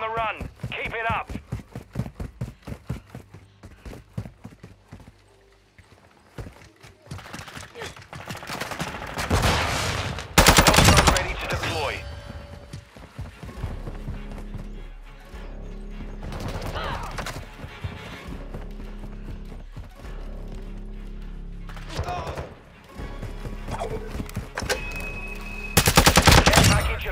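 Gunfire in the video game Call of Duty: Modern Warfare II comes in rapid automatic bursts and scattered loud shots, with heavy blasts and low rumbling between them while voices speak over the combat.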